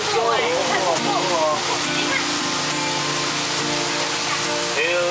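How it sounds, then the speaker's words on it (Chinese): A waterfall seen from a tour boat at a Hualien resort park gives a steady, broad rushing roar that fills the whole clip, with voices of people on the boat talking over it. "哇，瀑布哦，你看瀑布。"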